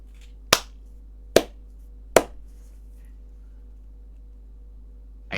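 Three sharp, isolated claps ring out at a slow, even pace in an otherwise quiet room, each a crisp single smack, followed by a long silence and a fourth clap at the very end.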